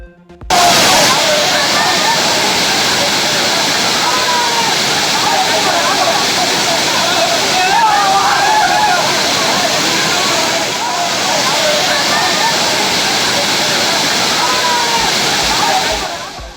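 A waterfall roars loudly and steadily, its water crashing and sloshing throughout, with tourists and families bathing beneath it and splashes blending into the dense rush.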